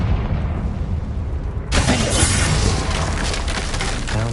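A Confringo blasting curse explodes in Hogwarts Legacy, a sudden loud burst that turns into a sustained roaring crash with debris, close up and with no voices.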